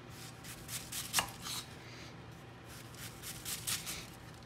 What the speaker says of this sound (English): you want to cut it as thinly as you can